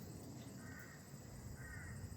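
Crows cawing outdoors, a couple of faint harsh calls rising over a steady background noise.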